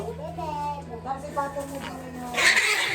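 Two cats fighting at home, with yowling, caterwauling cries rising and falling under children's chatter and a steady background hum.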